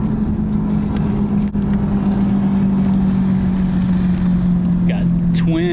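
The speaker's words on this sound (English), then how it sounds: "Got twin Mercury 300 racing motors on the back of that thing." Speedboat fitted with twin Mercury 300 racing motors, a steady loud engine drone holding a low hum close by throughout, with a brief higher whine near the end and talk over it.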